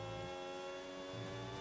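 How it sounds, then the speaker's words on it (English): A Red Bull Formula 1 car engine from F1 26 holds a steady, faint high-pitched whine, a sustained tone with no talk over it. "Very much rate the sound of this Red Bull engine."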